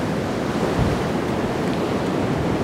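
Ocean waves wash up on a beach in Bali, a steady, close, rushing surf with some wind noise and no pause across the short stretch.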